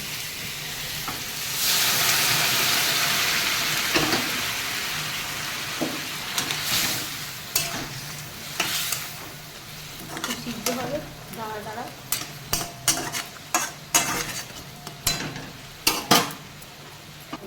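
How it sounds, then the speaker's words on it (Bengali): Hot water goes into a pan of sizzling sea-crab masala: a loud hissing surge early on, then a run of sharp clattering stirs and scrapes against the pot, all up close with no talk. "এবারে আমি এতে করে গরম জল করছিলাম এই গরম জলটা দেবো"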